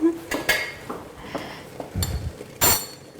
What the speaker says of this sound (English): I'm just using this to stir it.